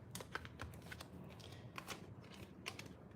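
Tarot cards being shuffled by hand, quick riffling bursts and soft paper slaps in an uneven rhythm, close and fairly quiet.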